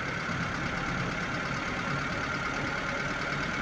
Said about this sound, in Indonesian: Oke, dengarkan suara mesinnya.